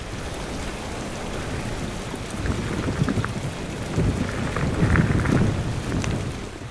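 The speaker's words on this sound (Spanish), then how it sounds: "La lluvia sigue incesante" Heavy, unrelenting rain pours down during a rainy driven boar hunt in Abenójar, Spain, a dense continuous hiss with gusting wind and a low rumble of thunder building toward the end.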